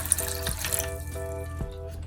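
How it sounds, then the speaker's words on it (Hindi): Chilled water pours into a blender jar over apple juice with a drop of rose essence, a steady splashing trickle running for about two seconds. "और ये हमारा चिल वाटर है, ठंडा ठंडा पानी है, इसमें ये चला जाएगा।"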